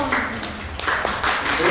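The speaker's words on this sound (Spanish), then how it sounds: "Por favor, un fuerte aplauso para Ana Lidia Godoy y su terror." Literary horror gathering audience claps for a reading author, with a dense, close round of applause punctuated by a few sharper claps over the short span.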